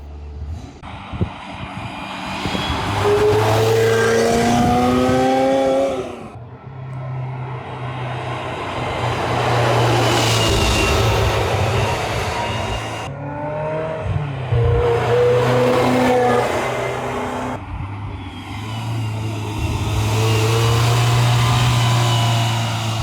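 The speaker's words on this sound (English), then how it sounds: "Listen to the engine of this car." A Ferrari 355 F1 engine revs hard through rising gear changes, dropping briefly between shifts, loud and close throughout.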